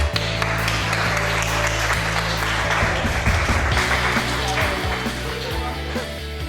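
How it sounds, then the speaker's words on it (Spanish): An audience claps to welcome a speaker at a talk, a dense wash of applause running throughout, partly masked by loud, sustained low tones. "vamos a recibir con un fuerte aplauso a Cristóbal Colón"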